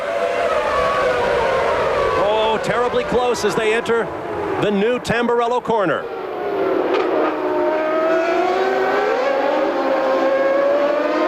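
Formula 1 cars from the 1995 San Marino Grand Prix at Imola charge away from the start, a loud engine roar rising and falling as the pack passes close. A commentator talks excitedly over the noise.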